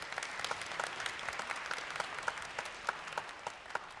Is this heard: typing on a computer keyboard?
no